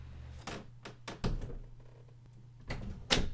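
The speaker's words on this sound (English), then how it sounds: "Pull the door closed behind me." A door is pulled shut: a few soft handle and latch clicks, then a pause and a firmer thunk as it closes, all near and fairly quiet.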